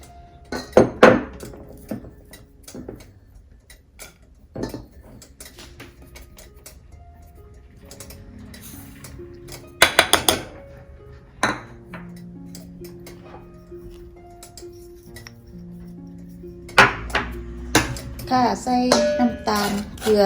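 A metal utensil clinks and scrapes in a pan on the stove while grated coconut is stir-fried for a sweet sago filling for Thai khanom thian. The bursts are intermittent and close, with soft voices in between.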